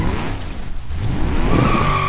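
A car skids with its handbrake locked on in the driving game BeamMP in an industrial area, giving a loud, steady tire scrub and squeal under the engine drone.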